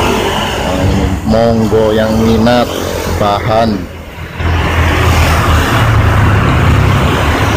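An old German VW Combi engine idles steadily in the background, a low continuous rumble under a man's speech that fills the middle of the clip.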